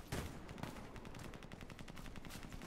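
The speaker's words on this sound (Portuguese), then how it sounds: "o Extra Force tá tankando tiro de sniper, galera" Rapid sniper gunfire crackles in a steady, fast rhythm, sharp repeated shots from a Warface game battle at moderate distance with no talking.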